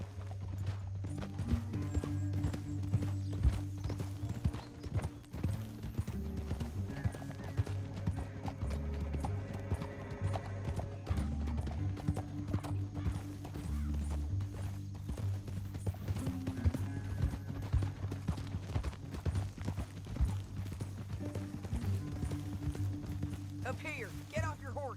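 Horses gallop in the Red Dead Redemption 2 video game, a steady clip-clop of hooves under a continuous low game soundtrack, with characters talking over it throughout.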